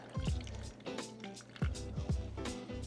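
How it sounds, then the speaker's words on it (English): Hot water is poured into a pan to make a water bath for crème brûlée, producing quiet splashing, dripping and sloshing in short irregular bursts close by. "we're going to put hot water. This is called a water bath."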